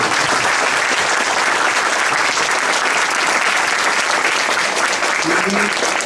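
Applause at a round-table panel on regulating acupuncture, a dense, loud wash of clapping that holds steady for about six seconds.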